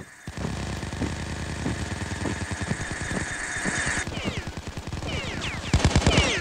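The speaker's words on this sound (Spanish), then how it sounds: "hay alguien disparando desde allí" Rapid machine-gun bursts crackle in the video game PAYDAY Crime War, loud and close, with sustained automatic fire punctuated by sharper single shots and a dense volley near the end.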